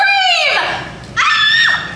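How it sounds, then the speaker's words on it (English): A child at a Universal Studios Hollywood special effects show lets out two long, loud, high-pitched screams close by, with a brief dip between them. "Let's all hear how you would scream!"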